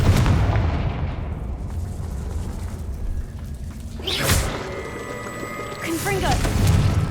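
A Confringo fire spell explodes in Hogwarts Legacy with a deep rumbling boom that rolls on for several seconds, followed by a sharp burst and crackling debris near the end. A voice speaks amid it.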